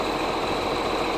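Tractor engine runs steadily while raking second-crop alfalfa in a field, a close, continuous low droning hum with no breaks.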